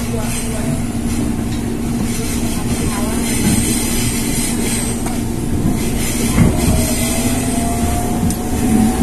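A Jakarta commuter train running between Matraman and Sudirman stations rumbles loudly on its rails, with steady clickety-clack and a high wheel squeal, while a voice talks over it.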